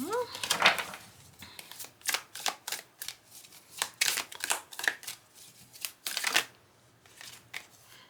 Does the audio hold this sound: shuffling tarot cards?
yes